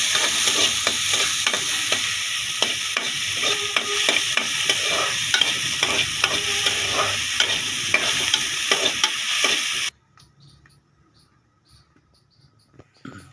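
Chopped onions sizzle and fry in hot ghee in a cooking pan for a paratha filling, a loud, steady crackling hiss broken by stirring scrapes, then it cuts off into near quiet.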